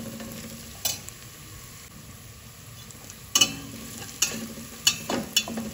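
Chopped onions frying to golden brown in a pan for a togarikalu (field bean) curry: a steady close sizzle broken by several sharp spatula scrapes and stirs, with no talking.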